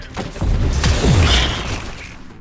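A video game plasma cannon fires a short, crunchy sci-fi blast with crackling, shattering texture and a swooping tone, fading quickly into a brief sizzle.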